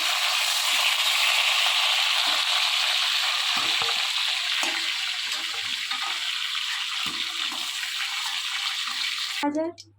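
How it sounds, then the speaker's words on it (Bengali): Pointed gourd (potol) pieces frying in hot oil, a steady loud sizzle and crackle running continuously before cutting off abruptly near the end, with faint clinks of stirring underneath. "তেলটা গরম হয়ে গেছে এবার পটল কটা ভেজে নেব"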